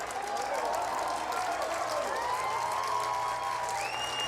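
An Edmonton crowd at a Canada versus Spain international rugby test cheers and applauds in a broad, sustained roar, with a commentator talking over it.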